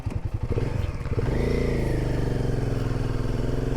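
Motorcycle engine on a high mountain road in Spiti, pulling steadily and loud and close, with a rough throbbing idle at first and then a sustained rising hum as the bike rides on.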